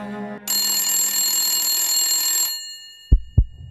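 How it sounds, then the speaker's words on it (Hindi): A phone ringtone sounds loud and tonal for about two seconds, then stops, followed by two low thumps. "तभी प्रतीक का फोन बजा"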